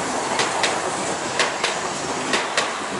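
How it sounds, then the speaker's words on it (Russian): Tram pulling away on rails, a steady rumbling roll with rhythmic clicking wheel knocks over the joints, close and continuous with no talk. "Трамвайчик поехал."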